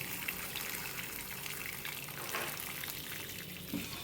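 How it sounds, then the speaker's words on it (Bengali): Hot water being poured into a pressure cooker while cooking chicken, a steady, close rushing gush that runs throughout at moderate loudness with no speech. "গরম জলটা দিয়ে নিই"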